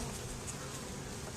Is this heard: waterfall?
no